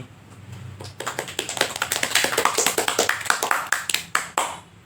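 Audience at a youth e-sports talk show applauding the guest stars, a burst of many hands clapping that swells and then thins to a few last claps, fairly faint and without talk.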